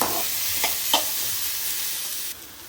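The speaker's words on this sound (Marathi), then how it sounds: "आता याच्यामध्ये कांदा टाकले मी भाजायला." Chopped onion frying in hot oil until brown gives off a steady, close sizzle, with a couple of soft stirring scrapes partway through.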